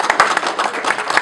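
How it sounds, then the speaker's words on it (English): Audience clapping at a university history talk, a short burst of scattered handclaps from a modest crowd in a room, moderately loud and irregular. "We should clap for George."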